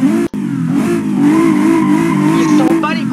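Car in the BeamNG.drive driving game: loud, steady engine drone with rising revs and a brief cut near the start, continuing through the clip with a faint squeal toward the end.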